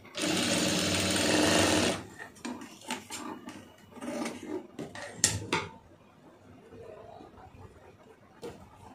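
A sewing machine runs in a steady, loud whir for about two seconds while stitching pieces of a blouse, then stops, followed by softer handling clatter and fabric shifting.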